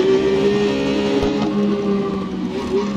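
Triumph Street Triple motorcycle engine in a track racing video game, droning close and loud with shifting pitch as it downshifts, sustained throughout.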